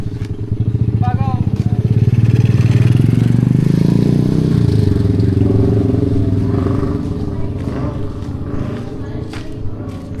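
A motorcycle engine idles and revs close by in a seaside setting in San Juan, Balingasag, Misamis Oriental, a loud steady rumble that swells around the middle and then settles, with people talking over it.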